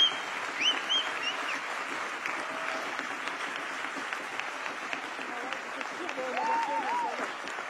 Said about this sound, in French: Et on termine par des applaudissements par tous les intervenants de la table ronde